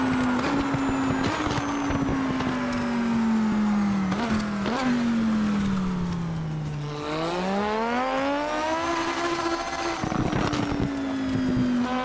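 A race car in a sim racing video game decelerates hard, the engine pitch sliding down then climbing again as it reaccelerates, with sharp crackling exhaust pops scattered along the way, loud and continuous without talk.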